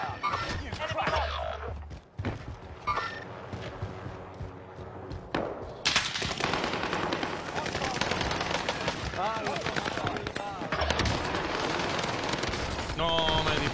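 Video game gunfire in a battle-royale shooter: bursts of automatic weapon fire and sharp shots rattle out repeatedly, dense and loud after a brief lull, with game sounds mixed in.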